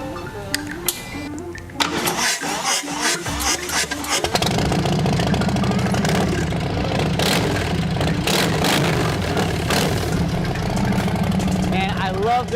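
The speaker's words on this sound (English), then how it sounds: "we're gonna go ahead and fire up this bike and see how it sounds" A 2019 Harley-Davidson Softail Slim engine with a Blow performance exhaust starts with a few sputters, then settles into a loud, throaty idle with a rapid, uneven exhaust rumble, close by.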